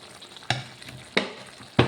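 Boiled meat is stirred into soya chunks and eggs frying in a pan: a soft sizzle under three distinct, evenly spaced scraping stirs, close and clear.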